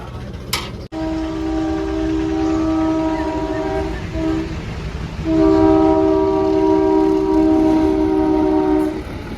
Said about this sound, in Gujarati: જો રેલ વટી ગઈ છે.